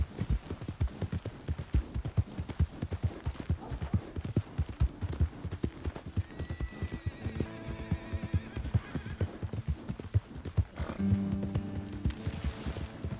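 Horse hooves clip-clop steadily in the video game Red Dead Redemption 2, a continuous close rhythm of hoofbeats running the whole time, with faint music-like tones and a brief whinny-like sound toward the end.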